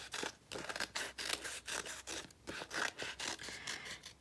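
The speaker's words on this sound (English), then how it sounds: "we're going to take our scissor and cut through both pieces of our paper" Scissors cut through two stacked sheets of paper in a string of close, quiet crisp snips and rasping scrapes, steady and unbroken, with no voices.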